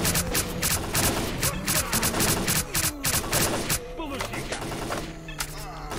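Rapid, continuous gunfire in STALKER: Clear Sky, loud and close, with shots crackling steadily throughout and voices talking over the shooting.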